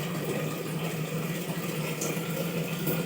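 Water flows steadily into water bottles in a continuous close rush with no breaks.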